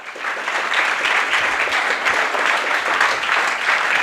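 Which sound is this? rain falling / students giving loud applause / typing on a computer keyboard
students giving loud applause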